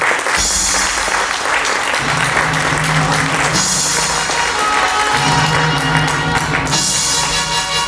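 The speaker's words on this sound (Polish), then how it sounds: "Wielkie brawa, szanowni państwo." A crowd at a sports awards ceremony applauds loudly and continuously, with dense clapping throughout and faint tonal sounds of background music underneath.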